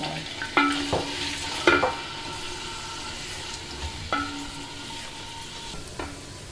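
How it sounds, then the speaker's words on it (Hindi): Onions frying in oil in a copper pot, a steady sizzle broken by loud metallic scrapes and clanks of stirring at intervals, close to the pot. "उसी ऑयल में मैं अब ये बाकी वाले प्याज शामिल कर रही हूँ।"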